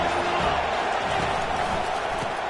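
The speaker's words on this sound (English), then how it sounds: "This crowd bringing the energy and noise early." A college football stadium crowd keeps up a steady, dense roar of many voices, loud and continuous for a couple of seconds.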